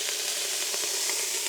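Bratwurst, peppers, onions and garlic frying on a Blackstone griddle, giving a dense, steady close-up sizzle with small crackling pops throughout.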